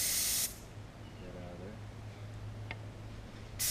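An enamel paint spray gun on an RV gives a loud burst of hissing spray, then falls quiet while the gun is adjusted under a low hum, and the hiss starts up again at the end.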